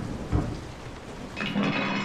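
Thunderstorm in the video game Resident Evil 7: steady rain hiss with a low thunder thump early on, then a brighter swelling rumble near the end, no talking.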